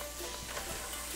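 Zucchini and mushrooms sizzle in a hot pan while being stir-fried, a soft, steady crackle with faint stirring scrapes and no voices.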